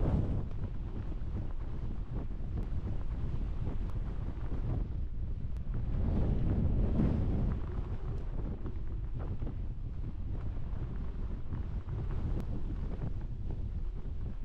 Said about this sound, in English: It's windy in Iceland!